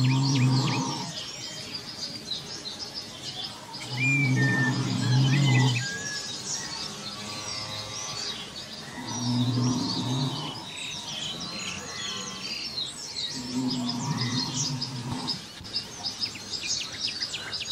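Birds sing in a deep forest with chirps and tweets trading back and forth, set over a low, steady hum that swells in several long pulses.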